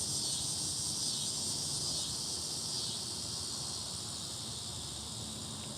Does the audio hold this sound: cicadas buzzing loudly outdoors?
yes